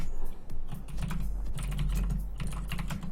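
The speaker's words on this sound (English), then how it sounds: "for whatever reason, my typing got louder" Computer keyboard typing while solving an Advent of Code programming puzzle, rapid irregular key clatter, fairly loud and close, running steadily for about three seconds with no voices.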